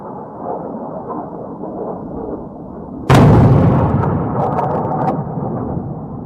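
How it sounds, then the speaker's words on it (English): Low rumbling background gives way to a sudden loud blast over Beirut, followed by a long rolling boom that slowly fades, with faint crackles after. "Explosions have been heard and smoke has been seen over Beirut"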